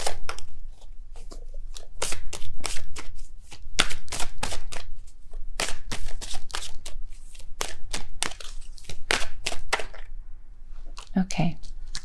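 Tarot cards being shuffled by hand in a steady run of crisp riffling bursts, close and fairly loud, with a voice speaking now and then.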